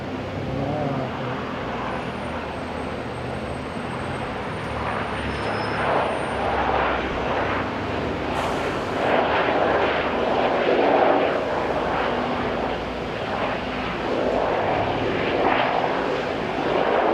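An airliner arriving at Auckland International Airport on a domestic flight from Blenheim, its steady jet roar swelling slightly as it nears and passes, heard at a distance with no talk.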